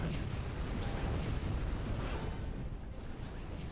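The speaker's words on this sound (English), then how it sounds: "like when everyone's in line and so like the explosions go off at the same time" Explosions go off in Final Fantasy XIV, a dense rumbling wash of booms and bursts rolling continuously at steady loudness, with a few sharper pops standing out.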